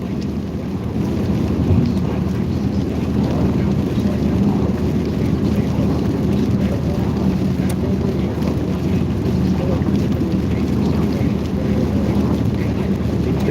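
A thunderstorm with wind, lightning and rain while storm chasing in the Ohio and Tennessee Valley, heard as a steady, dense roar of rain and wind buffeting the microphone, with low rumbling underneath throughout.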